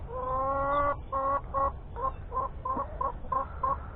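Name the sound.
chickens clucking in their cage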